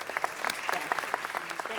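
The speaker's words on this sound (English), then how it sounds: "Give them a great round of applause." A city council chamber crowd applauds the Vikings boys basketball team, dense continuous clapping from many hands at moderate volume, filling the room.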